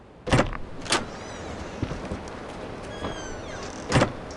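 Outer door opening in a video game, a few sharp clunks and a mechanical whir with faint creaking, close and clear against a quiet room tone.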